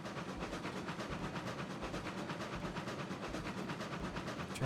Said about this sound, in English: Train's jumping a little bit there, isn't it?